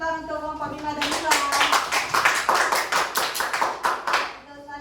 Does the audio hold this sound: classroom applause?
yes